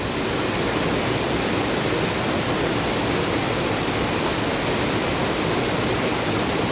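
The top cascade of Sabbaday Falls in New Hampshire, a dense, steady rushing roar of falling water filling the whole clip, loud and unvarying, with no voices.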